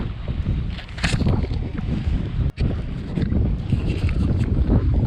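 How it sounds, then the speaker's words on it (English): Steady wind roars and buffets across an open fishing boat on the Chesapeake Bay during striper fishing, a constant loud rush with a brief dip midway. "I just want everybody to hear that wind."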